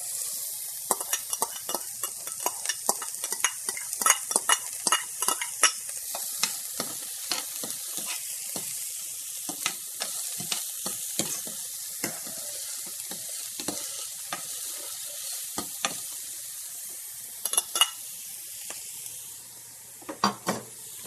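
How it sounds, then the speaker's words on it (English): Onions frying in a hot pan, a constant soft sizzle with frequent crisp stirring clicks and scrapes scattered throughout, close and fairly quiet, no voices. "as that heats up, I'm going to add my onions to this"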